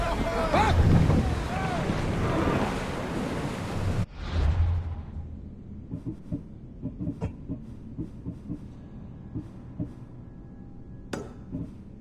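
Ancient sailing ship moving across the sea in Assassin's Creed Odyssey, with loud rushing wind and water for several seconds, then quieter creaks and knocks from the hull and rigging. A voice is heard briefly near the start.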